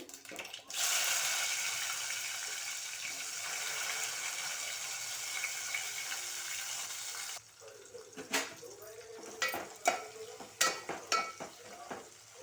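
Onions frying in oil with cumin seeds and green chillies give a loud, steady close-up sizzle for about seven seconds, then the hiss drops and scattered stirring clatters and scrapes take over.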